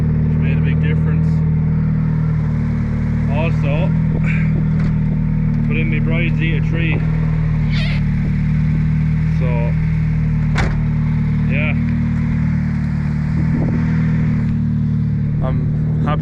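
A car with a forged SR20 engine idles steadily, its loud low rumble droning continuously up close while someone talks over it.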